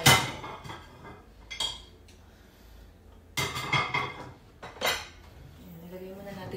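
Dishes and plates clatter and clink as they are set down on a table while lunch is prepared, with a few sharp, loud bursts of ceramic knocks spread through the stretch and some quieter handling between them.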